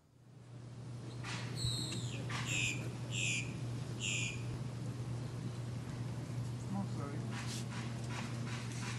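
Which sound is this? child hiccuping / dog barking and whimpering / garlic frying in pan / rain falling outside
dog barking and whimpering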